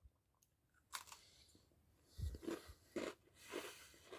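Crunchy bites and chewing of a Cinnamon Bun Oreo sandwich cookie, several soft crunches spaced over a few seconds, close and fairly quiet with no talk.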